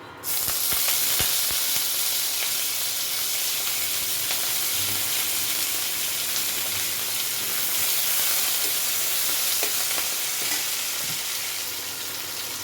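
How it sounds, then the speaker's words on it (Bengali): Cumin seeds and curry leaves sizzle in hot oil with a loud, steady frying hiss and crackle, close up, with faint stirring taps and no talking. "এই তেলের মধ্যে এখন আমি বেশ খানিকটা কারি পাতা দিয়ে দেবো"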